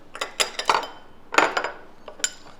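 Metal spoons clink against bowls of mayonnaise in a few sharp, scattered taps and scrapes. The sounds are close and moderately loud, with no speech.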